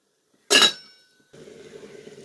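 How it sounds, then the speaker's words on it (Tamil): A metal lid clanks once onto a cooking pot of simmering black nightshade greens, leaving a brief ringing tail, followed by a steady soft hiss of cooking. "அப்படியே மூடியை போட்டு க்ளோஸ் பண்ணிடலாம்"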